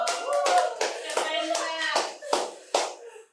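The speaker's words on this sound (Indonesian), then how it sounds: "tepuk tangan dulu" An audience claps at a Puteri Indonesia pageant event honoring a civil engineering student from Papua, with bursts of dense applause in clear rhythmic spurts, close and fairly loud throughout.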